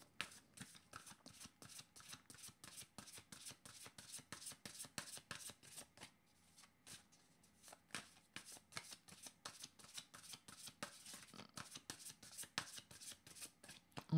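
Playing cards shuffled repeatedly for a tarot-style reading, a dense riffle of crisp, rapid flicks in close bursts with a short lull midway, heard alone at low level.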